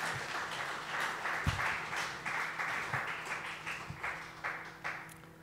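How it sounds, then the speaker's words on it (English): Audience applauding a presenter at a live event, a continuous crowd clap with pulsing swells and a few louder hits, moderately distant and steady over several seconds. "One big applause for him"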